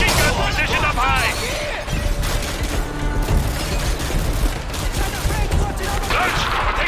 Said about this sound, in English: we're taking heavy fire from the militia here